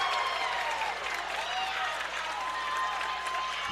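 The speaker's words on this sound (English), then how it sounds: "Can you hear the crowd?" Spirit Lake high school basketball crowd roaring in a dense, continuous wall of cheers after a game-tying three-pointer against Storm Lake, with whistles and shouts rising through the steady din.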